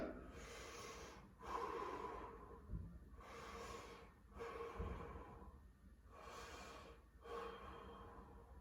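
Slow, deep breathing while a person holds a side plank during a stretch and mobility workout. Four or five long, close inhale-exhale cycles come through with soft nasal snorts and quiet gasps, and no one speaks.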